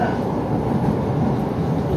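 Steady low rumble inside a Gajayana passenger train as it arrives at Kertosono station, a continuous heavy drone of carriage and track noise that holds level throughout.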